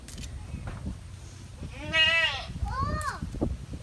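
Goats on a Batangas farm give two clear, wavering bleats close by, with people talking and calling out around them during feeding.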